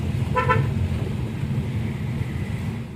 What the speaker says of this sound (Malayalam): ഹോണടിച്ച് ഹോണടിച്ച് പോകും